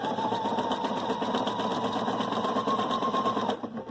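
A Viking Sapphire 930 sewing machine stitches a zigzag with a steady, close whirring hum for about three and a half seconds, then stops.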